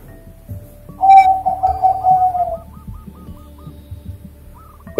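A perkutut (zebra dove) gives a single clear cooing call, a drawn-out tonal coo near and alone, followed by faint fainter notes.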